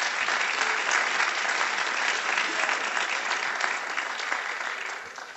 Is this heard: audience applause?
yes